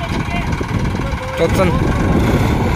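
Two tractors straining to pull a stuck trolley, their engines droning loudly and rising in effort, heard close up beneath someone talking.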